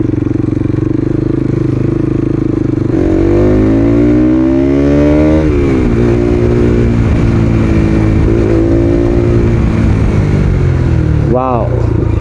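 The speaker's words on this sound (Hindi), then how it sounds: "बिना डीबी किलर खोले इतना खतरनाक साउंड कर रहा है ये।" A loud, fully modified Bajaj Pulsar NS200 motorcycle engine revs up and down repeatedly, with a rising and falling roar and a sharp burst near the end.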